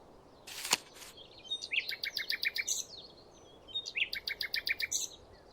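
Eurasian bullfinch song from the Wingspan game plays as two bursts of rapid, clear chirping notes, each lasting about a second, after a brief click.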